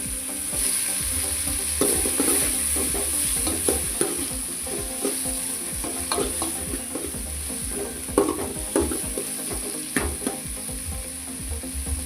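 Chopped tomato sautéing in a pan for a bottle gourd kuzhambu, a continuous sizzle with rhythmic scraping and clinking of a spoon against the pan.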